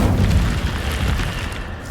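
An Incendio fire spell is cast in a Harry Potter video game, letting out a loud, deep rumbling whoosh of flame that holds steady for about two seconds and fades slightly at the end.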